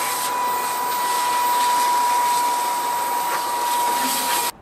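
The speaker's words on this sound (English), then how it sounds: "And vacuum with the crevice tool." A Milwaukee M18 compact cordless vacuum (0940-20) runs with its crevice tool fitted, a loud steady motor whine with rushing airflow throughout, cutting off abruptly at the very end.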